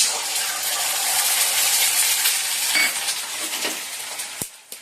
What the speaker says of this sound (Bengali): ডিমটা ভেজে নেবো। তেল দিয়েছি কড়াইতে,